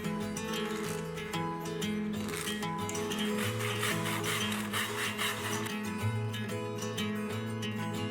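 A Workbee CNC router moves into position over a workpiece, with a steady whine of stepper motors and gantry motion whose tones shift up and down. It runs continuously at a moderate level, close by, with no speech.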